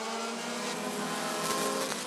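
Midwest Dash Series race cars at Rockford Speedway accelerating as the green flag drops, a steady, dense engine roar from several cars holding at a constant loud level, with no talk over it.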